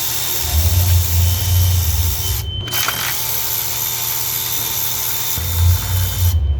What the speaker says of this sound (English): I can come back with my quarter drive ratchet set up, come back and get these boys